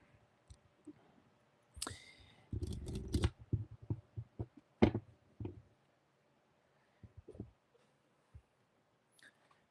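Tarot cards are shuffled by hand in a quiet room, with a series of soft papery riffles, flicks and taps in short irregular bursts, faint and close.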